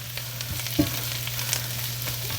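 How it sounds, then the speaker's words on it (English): Green beans sauteing in a pan with butter, almonds and shallot give a steady, close sizzle with a faint stirring scrape and one light knock, no talking. "Let the green beans saute a little bit in the pan with the butter, the almonds,"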